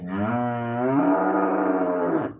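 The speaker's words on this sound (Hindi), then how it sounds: "आओ इधर आओ, बहुत चिल्लाता गैया।" A cow lets out a single long, loud moo, a rich tonal bellow that shifts pitch midway and lasts over two seconds before cutting off.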